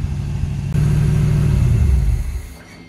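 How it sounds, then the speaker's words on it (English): A 1981 Chevrolet Corvette Turbo engine, revived after 30 years in a barn, runs steadily with a deep, loud low rumble close by, swelling slightly before settling and fading near the end, with no talking. "She's running very nicely."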